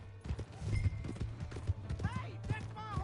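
Horse hooves clip-clopping in Red Dead Redemption 2, a busy run of irregular hoof thuds with a brief whinny-like cry, mixed under game sounds and voices.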